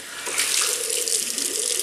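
Cold water pours steadily from a tap into a bathroom sink during a wet shave, a loud, close, unbroken hiss and splash with no voices.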